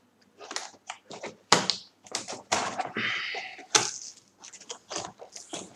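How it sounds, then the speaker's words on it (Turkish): Packing tape is peeled and torn from the box of a new HP Deskjet 1510 printer, a series of sharp, irregular ripping and crackling bursts, close and fairly quiet, with short gaps between pulls. "yanındaki şu bantları falan açıyorum"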